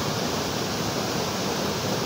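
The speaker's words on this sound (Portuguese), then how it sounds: "É muito show essa cachoeira aqui" A waterfall near Ibiapina in Ceará, Brazil, close to the Piauí border, pours in a steady, dense broadband roar that stays constant and loud throughout, with no voices.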